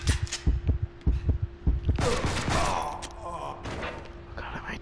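Gunfire in the video game Counter Spy: a rapid string of sharp, punchy shots in steady rhythm, followed by a heavier burst and noisy tail, with a constant tonal hum running underneath.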